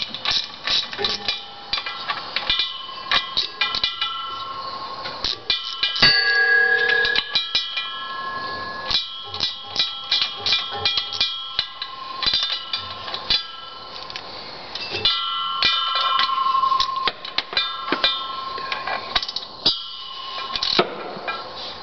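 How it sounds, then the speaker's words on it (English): Small ratchet with a 7/16 socket loosening bolts on a 1972 Pontiac Firebird while the 4-speed transmission is pulled: rapid bursts of metallic clicking, close and fairly loud, with pauses, clanks and tool handling between runs. "we're going to remove these bolts, and all I have here is a 7/16 socket with a small ratchet"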